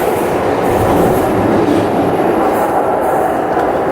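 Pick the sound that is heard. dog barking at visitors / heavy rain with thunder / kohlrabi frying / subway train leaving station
subway train leaving station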